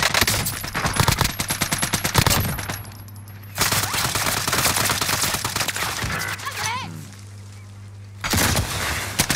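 Bursts of automatic gunfire crackle in a Call of Duty: Modern Warfare match, with rapid rattling volleys, brief lulls and a final burst, loud and close amid game sounds.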